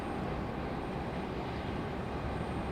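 A JetBlue airliner passes at Raleigh-Durham International Airport as a faint, steady, broadband roar that holds evenly with no voices.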